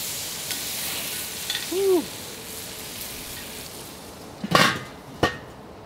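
A steak sizzles steadily on hot cast iron over a Weber kettle grill, and clanks and bursts of louder frying mark the flip. A voice gives a short excited shout.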